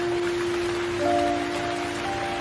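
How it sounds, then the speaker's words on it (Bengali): Heavy storm rain pours outside in a Bangla cartoon village scene, a steady, dense hiss of rainfall with a faint sustained tone above it, and no voices. "বাইরে প্রচুর ঝড় বৃষ্টি হচ্ছে"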